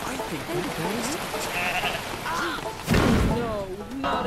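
Goat bleats in the Goat Simulator 3 video game, several wavering cries in a row, with a heavy thud midway and more bleats after it, all fairly close and loud.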